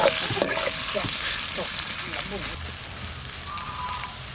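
Tomato and ginger-garlic paste dropped into a hot frying pan for a village-style red rooster curry, a burst of crackling sizzle with stirring clinks that settles into a softer steady fry.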